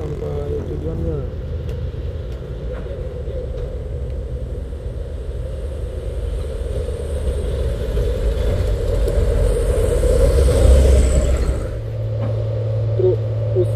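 A heavily loaded Fuso truck with a plastic-glass intercooler rumbles along a road in a steady low drone, swelling louder toward the end, with faint talk underneath.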